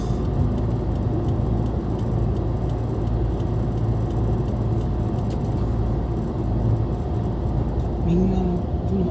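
A car with a K6A engine, being broken in, cruises along the Shin-4gō highway in Japan: a steady, loud engine and road rumble heard from inside the cabin, with a person talking over it.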